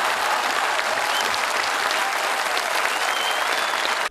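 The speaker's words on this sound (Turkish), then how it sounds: "ekip arkadaşları dakikalarca ayakta alkışlandı" A theatre audience in Maltepe gives a standing ovation at the end of the play "İçerdekiler", with loud, dense, sustained clapping and crowd noise that fills the whole stretch and cuts off abruptly.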